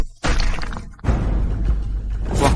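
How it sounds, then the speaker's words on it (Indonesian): An object breaks under a kick with a loud, close shattering crash, followed by continuing rattling, crunching debris that stays dense and noisy to the end. "Wah, beneran bisa hancur ya, gila banget."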